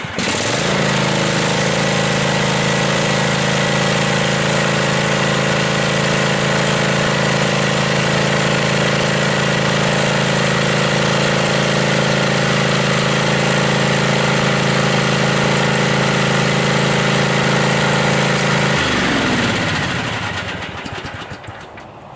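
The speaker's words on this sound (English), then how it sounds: "It's running pretty good there, better than before." Kawasaki two-cylinder lawn mower engine after a tune-up with a new fuel filter, starting and running at a loud, steady, close droning idle for about eighteen seconds before slowing and winding down.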